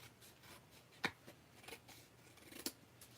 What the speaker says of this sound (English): this is a little long, so we'll snip off the excess.